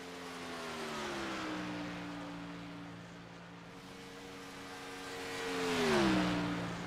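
A race car on a qualifying lap at Las Vegas drones past, its engine note holding steady, easing lower, then swelling louder and dropping in pitch as it passes close.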